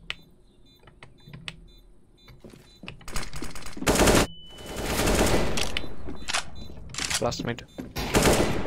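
Counter-Strike gunfire rings out in a quiet match, first as a few sparse shots, then as loud sustained bursts of automatic fire in several bouts, with a player talking briefly in between.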